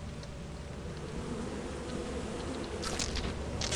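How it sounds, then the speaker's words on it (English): A dense swarm of bees drones steadily in a video game, a loud, continuous buzzing close by with a few sharp ticks near the end. "oh, bees! I'm about to die, I just scanned the bees."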